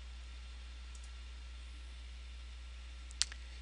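A single sharp computer mouse click near the end, with a couple of fainter taps earlier, over a quiet steady background hum.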